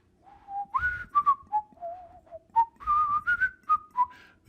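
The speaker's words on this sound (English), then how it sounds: "We whistle a happy tune." A person whistles a cheerful tune alone, a clear melodic line of short rising and falling phrases with brief gaps, close and moderately loud.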